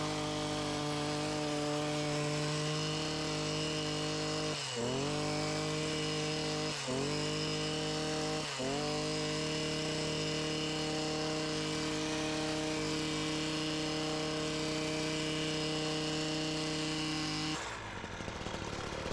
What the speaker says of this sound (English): We're gonna trim a couple bushes here.